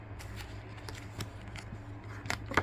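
Cards being shuffled in quick riffling bursts, soft and close, with short crisp snaps and no talking.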